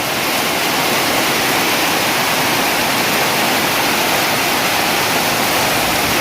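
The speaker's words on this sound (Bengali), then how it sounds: "অজর ধারায় পড়তেছে বৃষ্টি, বৃষ্টির পরিমাণ অনেক বেশি, খালি পানি পড়তেছে।" Heavy rain pours down in a dense, unbroken hiss, loud and steady from start to finish with no voices.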